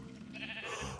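A sheep in the Minecraft video game gives a short, faint bleat under continuous game background noise.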